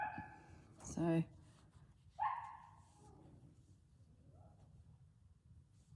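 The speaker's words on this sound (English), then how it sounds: "So I do apologise for the woofing that's going on in the background." Faint puppy woofs sound in the background of an indoor craft session, with two short bursts early on over a low room murmur and a brief spoken word.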